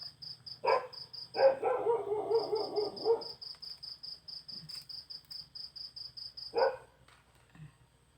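A dog barks in short rough bursts outdoors at night against a steady pulsing chirp of crickets, with a few yelps early on and a final bark near the end.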